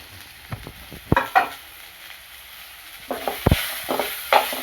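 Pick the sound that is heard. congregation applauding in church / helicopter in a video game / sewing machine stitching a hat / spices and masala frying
spices and masala frying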